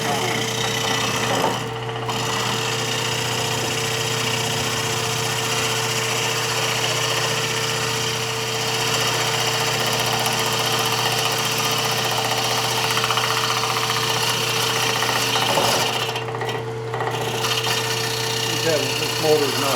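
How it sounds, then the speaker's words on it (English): Wood lathe motor running steadily through a bowl gouge cut, a constant humming drone with a strong low tone and faint scraping of the tool on the spinning wood, heard up close under a voice talking. "This motor's not helping him at all."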